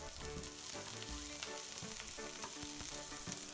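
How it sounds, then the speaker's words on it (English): Carrots and onions stir-frying on high heat for egg fried rice, a dense, loud crackling sizzle with busy spatula movement, close up and without speech. "So I'm going to go in with the carrots and onions first"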